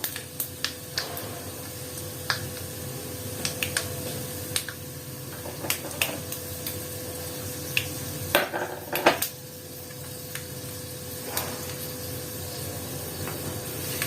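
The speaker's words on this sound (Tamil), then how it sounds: "கொஞ்சம் உளுத்தம்பருப்பும் கொஞ்சம் கடலைப்பருப்பும் போட்டிருக்கேன். பொரியட்டும்." Urad dal and chana dal frying in a pan of oil with cumin, a low steady sizzle scattered with small pops and metallic clinks of a spoon, close and quiet with no talk.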